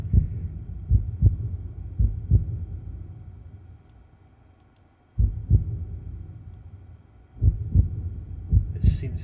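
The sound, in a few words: faltering heartbeat sound effect, stopping and stuttering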